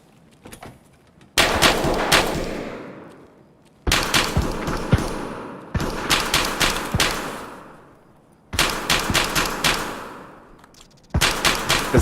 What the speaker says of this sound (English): What's he shooting at? Shooting at me.